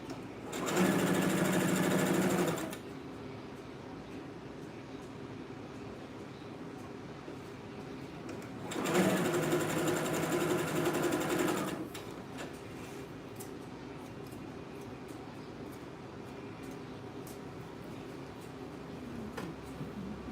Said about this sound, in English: I'm just gonna be stitching the sides now